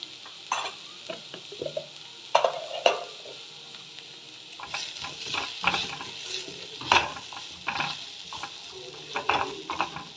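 Red chilli, coriander and cumin powders fry in a pan while being stirred, with a quiet sizzle under irregular scraping and clinking strokes, close and fairly soft, no talking.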